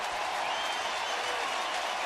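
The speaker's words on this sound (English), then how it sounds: "Crowd coming alive, puts more pressure on the pitcher." Baseball stadium crowd cheering and roaring as the pitcher works a 2-2 count, a dense, steady wall of noise with no pauses.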